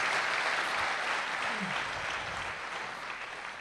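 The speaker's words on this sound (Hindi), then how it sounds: "जरा जोरदार तालियों से आप इनका स्वागत करिए।" Applause from an audience welcoming a guest on stage, dense steady clapping from a large crowd that fills the whole stretch and eases slightly toward the end.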